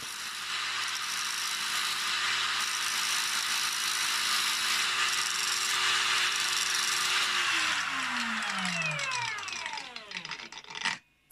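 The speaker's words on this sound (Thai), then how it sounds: "เราก็เปิดเครื่องทั้งสองตัวเลยทั้ง เครื่องเจียร์แล้วก็สว่านนะครับ เราก็เจียร์ไปเรื่อย" A continuous high, harsh grinding whine of an angle grinder and drill grinding a worn screwdriver bit, steady for several seconds before winding down and stopping.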